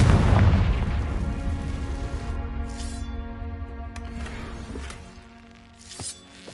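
A Confringo fire spell bursts in Hogwarts Legacy on PS5, opening with a loud, deep boom that rolls into a long rumbling tail, a few crackling bursts flaring above it and a final sharp pop near the end.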